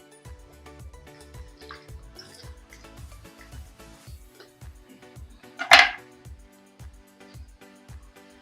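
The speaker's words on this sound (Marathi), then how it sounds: "त्याच्यामध्ये पाणी ॲड करतोय" Water is added to a pot of corn curry, heard as a steady run of soft rhythmic drips and splashes with one brief louder splash midway. There is no talking.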